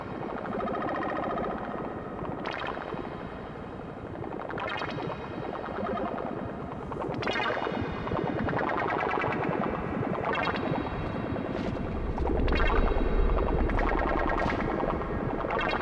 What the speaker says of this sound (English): almost be like a kind of the background noise, the soundscape of like a weird ship or something. With the rumbles.